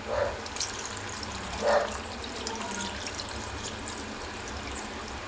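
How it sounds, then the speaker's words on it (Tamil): Water pours and splashes steadily into a cooking pot of chicken and white pumpkin curry, a continuous hissing gush with a couple of brief louder splashes near the start. "இப்போ நம்ம இதில் வந்து தண்ணி சேர்த்துக்கலாம்."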